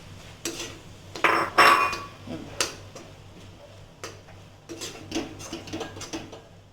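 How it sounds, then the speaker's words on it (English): Ground masala is stirred and sauteed with cooked vegetables in a pan, heard as a series of metal spoon scrapes, clinks and knocks against the pan in irregular bursts, fairly close and without talk. "Now let us add the ground masala to this and saute it for around 1 to 2 minutes."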